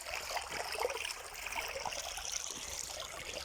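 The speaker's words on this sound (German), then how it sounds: "Also Bach, den ich jetzt hochlaufe" Mountain stream in Schönheide flowing steadily nearby, a continuous close trickle and babble of water with no voices.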